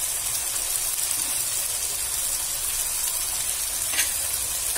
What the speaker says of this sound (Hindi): इसे भी प्याज और टमाटर के साथ अच्छे से फ्राई कर लूंगी